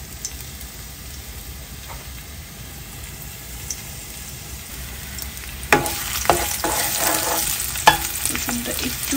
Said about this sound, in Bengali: রসুনটা একটু করে ভেজে নেই